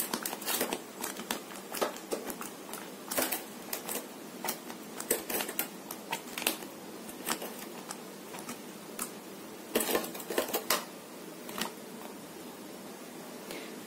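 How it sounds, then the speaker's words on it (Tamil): Cleaned crab pieces are added to a pan of simmering crab masala, making scattered clicks, clinks and crackles over a soft, steady background hiss, with no speech. "இப்போ இதல நம்ம க்ளீன் பண்ணி வச்சிருக்க நண்டை ஆட் பண்ணிக்கலாம்."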